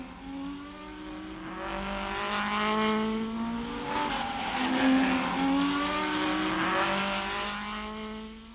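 Several 1964 Shelby Cobra and Ferrari race cars roar past at speed in a Tour de France Automobile race, engines droning and shifting pitch as they approach and recede, loud and continuous with no talk.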